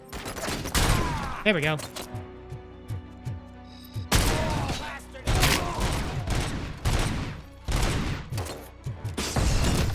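Loud bursts of gunfire in the Robocop: Rogue City video game, several separate volleys with brief pauses between them, and a player speaking briefly in the gaps.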